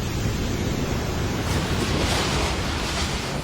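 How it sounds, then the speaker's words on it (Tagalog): Strong storm waves pound a resort in Dipaculao, Aurora, a dense, roaring, continuous wash of surf and wind noise that swells slightly midway, with no voices. "Sa Aurora hinampas ng malalakas na alon ang isang resort sa Dipaculao."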